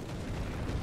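An ammunition rack detonates inside a tank in War Thunder, giving a loud, sustained rumbling blast that fills the whole moment with dense, low roaring noise and no distinct separate pops.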